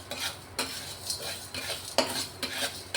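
Rock salt is roasted in a hot pan while it is stirred for a Kolhapuri masala. A utensil scrapes through the crystals in repeated gritty strokes, about one every half second, over a light sizzle.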